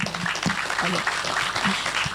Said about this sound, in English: Ladies and gentlemen, please a round of applause for them